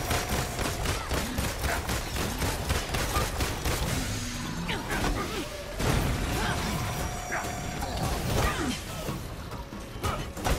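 Rapid pistol shots and mechanical clatter from Marvel's Avengers gameplay as Black Widow, a dense, loud run of sharp cracks throughout with brief gaps, alongside other game effects.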